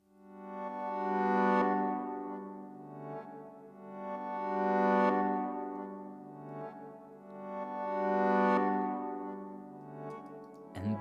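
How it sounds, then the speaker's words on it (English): Sustained synth chords swell upward in three slow reversed waves, each rising to a sudden cutoff, with a short choppy tail at the end. "That reverse sounds like this."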